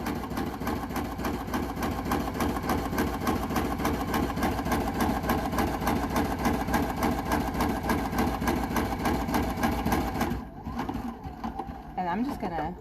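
A Bernina Q16 quilting machine runs at a steady, fast rhythmic stitching pace, close and continuous, until it slows near the end.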